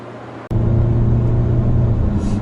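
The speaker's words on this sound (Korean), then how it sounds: "막 가속을 지금 프락셀을 쳤는데도 4000rpm으로 올라가면서 미션의 반응은 쫙 올라가주는데" A Hyundai Santa Fe facelift with a 2.2 diesel engine accelerates hard toward 4000 rpm, a steady loud engine drone with a rising tone that swells abruptly after a brief dip, heard from inside the cabin.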